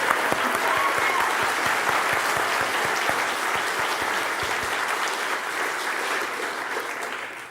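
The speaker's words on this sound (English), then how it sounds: "Let's give them a round of applause." An audience at a writers and illustrators awards ceremony claps in sustained applause, a dense, loud wash of many hands that holds steady for several seconds before easing slightly.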